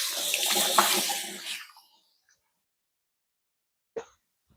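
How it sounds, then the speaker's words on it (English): Tap water runs over hands being rinsed in a kitchen sink, a steady broadband splash for about a second and a half that stops abruptly, followed by silence and one brief faint knock. "It's going to give my hands a little rinse."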